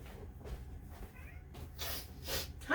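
An indoor cat meows a few times, faint and close, with soft rustling around it and a sharper, louder meow near the end.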